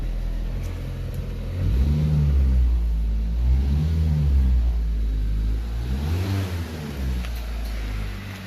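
A car engine with a booster revs repeatedly, rising and falling in several long accelerations over a steady idle rumble, with no talking.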